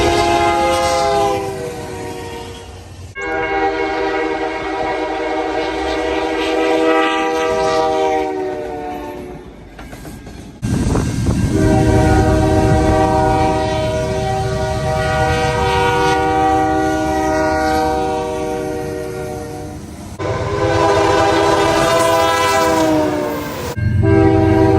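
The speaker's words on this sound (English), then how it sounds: "Now, here are some examples of the K3L horn." A Canadian National locomotive's K3L air horn sounds in several long, loud chorded blasts, with pauses between them, over the rumble and rolling noise of a passing train.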